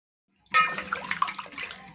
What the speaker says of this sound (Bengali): টমেটোগুলো ভালোভাবে ধুয়ে নেব।